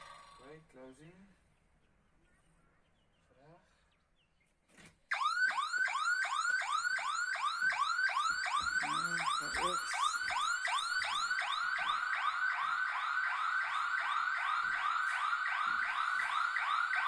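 A tiny house alarm system siren under test sounds after a few seconds of quiet with faint talk, then blares loud and close as a rapid, continuous warbling wail that holds steady to the end.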